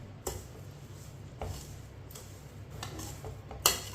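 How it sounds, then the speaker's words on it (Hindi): A spoon stirs grated coconut and sugar together in a pan for suji laddu, giving a few sparse scraping clinks and taps over a quiet background, with a sharper knock near the end. "पहले नारियल के बरादे को मिक्स करना है, बाद में चीनी को मिक्स करना है।"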